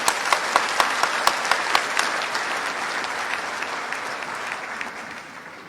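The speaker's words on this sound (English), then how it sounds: "Let's give a big applause for going." Audience applause at the Social Business Day 2025 opening event in Bangladesh, a dense wash of clapping with a few sharp louder claps early on, gradually thinning and fading over several seconds.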